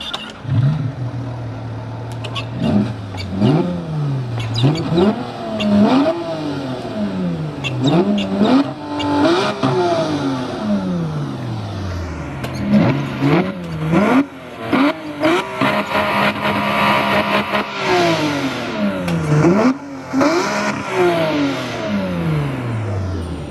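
A Porsche 911 GT3 RS engine screams up and down through repeated sharp throttle blips and gear changes, loud and close, with no talking.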